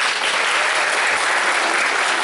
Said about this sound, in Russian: Ваши аплодисменты, пожалуйста, друзья.